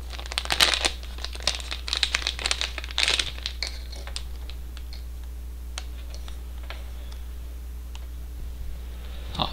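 Plastic bag packaging of a BPI Bit board from Banana Pi being opened, a cluster of loud crinkling rustles in the first few seconds, then sparse small ticks and clicks over a steady low hum.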